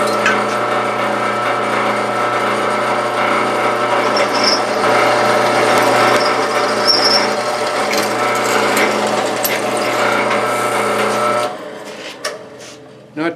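A power drill fitted with a 1/4-inch bit whines steadily while enlarging holes in tubing for a firewood carrier, a loud, continuous grinding hum that cuts off near the end with a few clunks.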